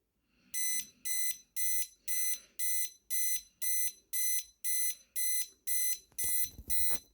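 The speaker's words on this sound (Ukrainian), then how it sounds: "Зараз почуємо, який біп." Denver EC-34 digital dual alarm clock beeping: a rapid series of bright electronic beep bursts in a steady rhythm, about ten in a row, loud and close in a quiet room, ending with a few handling clicks.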